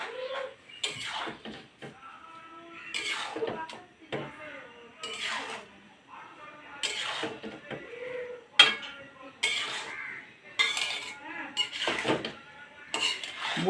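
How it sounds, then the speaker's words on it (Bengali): Grated coconut is stirred in a metal pan over low heat for Bengali coconut laddoos, with a spoon scraping and clinking in slow, repeated strokes at close range. "নারিকেলটা কম জালে আস্তে আস্তে নাড়ব।"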